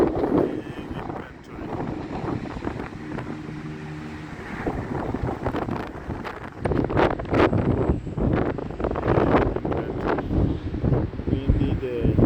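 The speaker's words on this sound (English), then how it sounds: "What a windy day." Strong gusts of wind buffet the microphone at an outdoor tractor lot, with loud rumbling bursts throughout while people talk over it.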